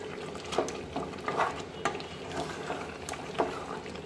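Beef kosha is stirred and fried in a pan, with a steady close sizzle and bubbling broken by recurring scrapes and clacks of a spoon on the pan, with no talking.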